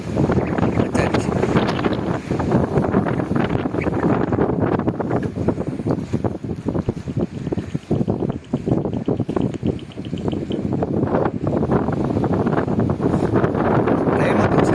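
Strong wind roars across the microphone at the overflowing Emerald dam in bad weather, a loud continuous buffeting rush with gusts rising and falling throughout.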